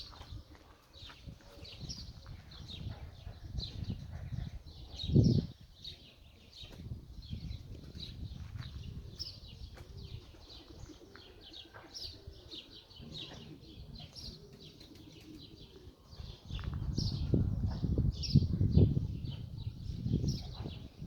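Soft pigeon cooing repeats in the background, with a burst of wing flapping and some rustling and low rumbling nearby.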